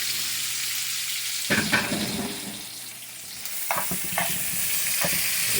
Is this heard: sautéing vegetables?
yes